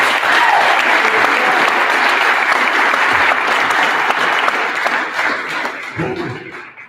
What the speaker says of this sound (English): let's give it up for Darrison.